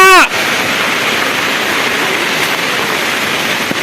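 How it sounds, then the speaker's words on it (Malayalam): Heavy rain pours steadily with a loud, continuous hiss. A voice is heard for a moment at the very start. "ദില മഴ കൊള്ളണ്ട മഴ കൊള്ളണ്ട"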